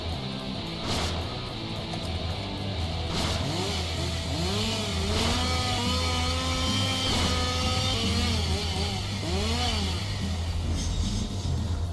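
A chainsaw attack in a video game rasps and revs repeatedly over busy battle music, with several sharp hits punctuating the steady din.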